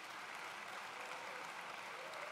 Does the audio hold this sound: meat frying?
no